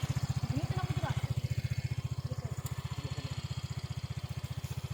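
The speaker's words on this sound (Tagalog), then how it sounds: "Susubukan nila i-akyat yung motor." A motorcycle engine chugs close by in a fast, even pulsing rhythm, loud and steady throughout, with faint background noise above it.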